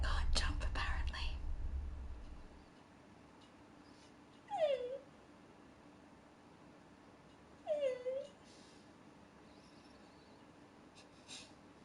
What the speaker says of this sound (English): My dog is so cute.